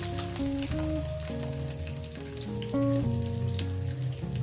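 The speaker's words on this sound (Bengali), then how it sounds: "মুখি কচুগুলো আগে দিলাম" Pieces of taro sizzle steadily in hot oil in a pan, a continuous close frying hiss with light stirring and no voices.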